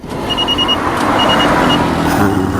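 A car makes a U-turn on Marine Drive road in Chittagong, with steady engine and road noise and a few short electronic beeps sounding in bursts.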